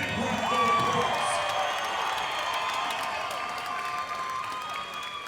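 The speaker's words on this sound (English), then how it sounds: "let's give both of these fighters a big round of applause." An arena crowd at a Shamrock FC mixed martial arts event applauds and cheers for two fighters, a steady wash of clapping and voices that holds loud for several seconds and eases slightly toward the end.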